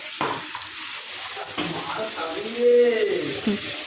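Potatoes fry in fat with turmeric while being stirred, giving a steady sizzle with scraping strokes through the pan and faint voices in the background.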